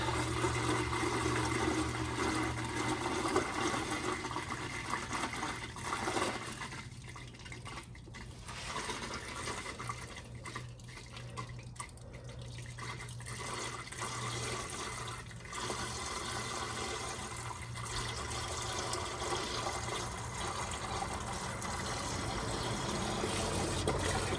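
Water drains from a seized, rusty engine into a bucket, a continuous rushing splash that dips briefly midway and then keeps flowing, close by.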